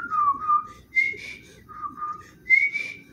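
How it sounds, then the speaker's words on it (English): A person whistles a short wavering tune in four separate phrases, each a few notes long, with brief pauses between them, close and clear. "Oh no, my whistle must be broke tonight."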